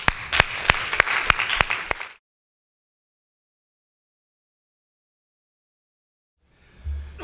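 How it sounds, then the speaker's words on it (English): Clapping from a conference audience for a speaker: about two seconds of sharp, evenly spaced claps, then an abrupt cut to silence, with a faint low rumble at the very end. "So folks, let's give him a clap."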